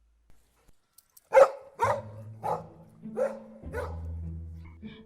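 A pet dog named Tommy barks five times in quick succession, loud and close, each sharp bark followed by a brief ringing tail.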